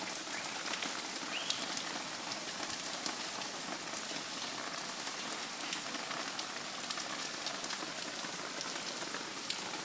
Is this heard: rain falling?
yes